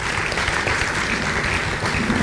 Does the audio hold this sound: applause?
yes